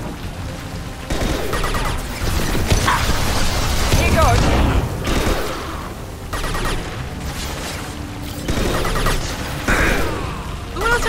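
Shootout in the video game Mass Effect 2, with rapid bursts of loud gunfire and booming impacts rolling on continuously while someone speaks briefly over the battle.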